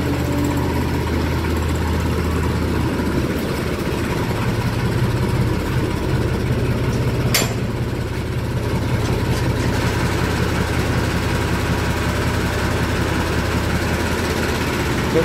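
A Massey Ferguson 35 tractor engine idles steadily at close range, a continuous low throbbing rumble with an even rhythm and a brief clunk partway through, with no talk.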